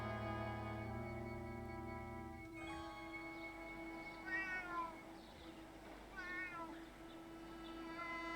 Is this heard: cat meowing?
yes